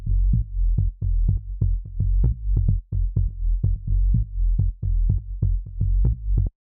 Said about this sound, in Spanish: Tenemos aquí el bajo principal, que es un bajo muy sub.